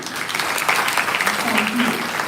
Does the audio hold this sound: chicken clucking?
no